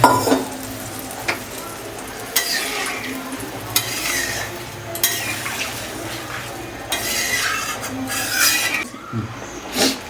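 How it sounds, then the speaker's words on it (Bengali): Warm water is poured into a frying rohu fish curry with potatoes in a pot, giving a steady sizzle and bubbling with intermittent stirring and utensil clatter over about ten seconds. "উষ্ণ গরম জল উষ্ণ গরম জল দিয়ে দিলাম"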